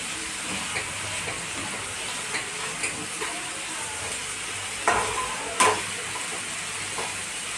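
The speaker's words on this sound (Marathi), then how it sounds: "तर छान असं परतून घेऊया आणि इथे बेसिक मसाले ॲड करूया" Tomatoes sauté in a pan for rajma, giving a continuous soft sizzle with light scraping stirs and a couple of louder clatters of the spoon near the end, close and steady.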